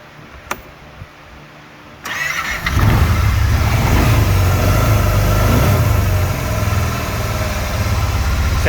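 A rebuilt Kawasaki Teryx 800 engine cranks and catches after a couple of quiet seconds, then settles into a loud, steady running rumble close by that continues to the end.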